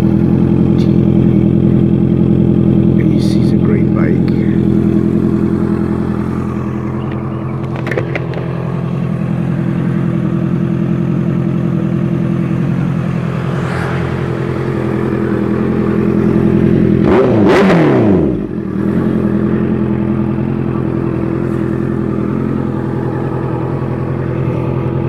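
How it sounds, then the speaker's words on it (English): Honda CB650F motorcycle with a full R9 exhaust, its engine droning steadily at close range for about 25 seconds, with a brief rising rev or passing engine sweep midway and no talking. "You have a complete R9 exhaust."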